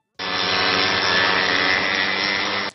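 Homemade airplane engines run as a steady, buzzing drone that starts abruptly and holds at constant loudness for a few seconds, close and alone.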